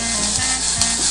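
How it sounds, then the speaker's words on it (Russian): Green peas frying in a pan of olive oil and butter for fish and chips, giving a steady broadband sizzle with soft rubbing stirs and a low hum, close and continuous. "Обжариваем горошек."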